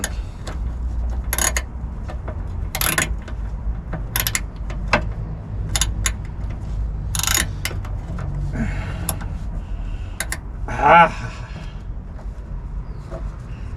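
A hand wrench cranks and ratchets on a 1950 Dodge Meadowbrook, making irregular clicks and creaks in scattered bursts with pauses between them, close and fairly quiet, with no talking.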